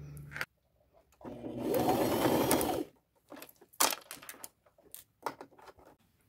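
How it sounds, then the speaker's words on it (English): A sewing machine runs in a steady whirring burst for about a second and a half as it stitches around a small fabric pouch, followed by scattered clicks and handling taps. "I'm going to go to my machine and I'm going to sew all the way around it."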